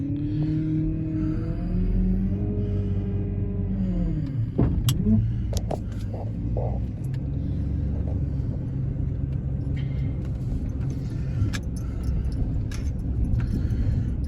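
A truck is heard from inside the cab as it drives, with a steady low engine rumble and a shifting engine tone early on. Brief rattles and clicks come partway through, and no one speaks.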